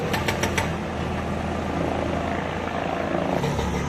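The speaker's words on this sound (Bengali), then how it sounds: "ফাটা থেকেই কিন্তু আছে কেদারনাথের হেলিকপ্টার সার্ভিস" A Kedarnath shuttle service helicopter flies near a mountain helipad at Phata, its rotor thumping rapidly at first, then a steady loud whirring engine drone that fills the whole stretch.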